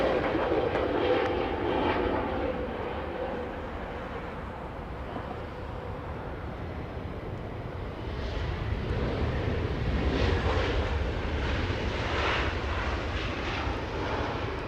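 JetBlue jet airliner on final approach at Los Angeles International Airport, a steady distant engine roar and rumble that dips briefly and then swells again with a rising whine, no speech.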